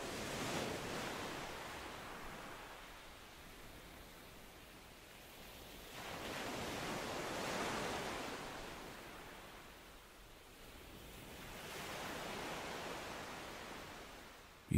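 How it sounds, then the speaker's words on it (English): Ocean waves wash up on a deserted beach as the tide comes in, three broad surges swelling and receding in a slow, steady rhythm, soft and airy with no voices. "The tide is slowly coming in."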